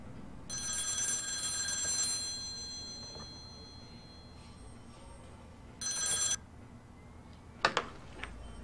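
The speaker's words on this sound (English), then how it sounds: "Answer your damn phone." A telephone rings in The X-Files Game, a clear electronic bell trill sounding for about two seconds, then a shorter second ring after a pause, with a few faint clicks at the end.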